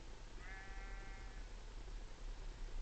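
A single sheep bleats in the Minecraft video game, a short wavering cry of about one second set over a steady, noisy game background.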